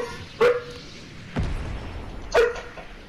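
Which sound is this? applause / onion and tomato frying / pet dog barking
pet dog barking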